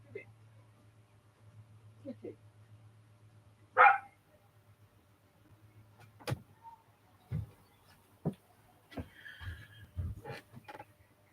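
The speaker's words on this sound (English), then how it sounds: "Bloody got a dog in the school field." A dog in a school field barks a few times at irregular intervals, with some sharper bursts, over a low background hum, while a person speaks nearby.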